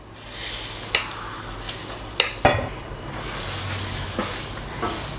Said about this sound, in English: Pan is very hot. You can hear the sizzle.